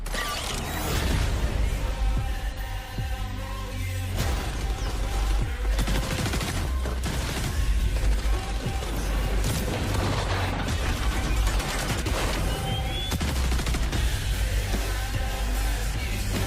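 A video game detonation sets off dense, continuous booms and crackling bursts like heavy gunfire, loud and sustained throughout with no pauses.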